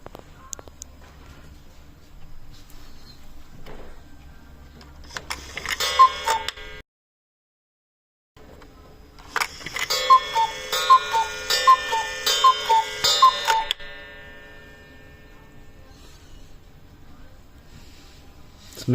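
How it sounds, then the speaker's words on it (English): A wooden one-day Black Forest cuckoo clock with two cats, made in Germany, ticks steadily up close. Its mechanism clicks and chimes in bursts, broken by a brief silent gap. "Here we have our new one-day Cuckoo clock with the 2 cats."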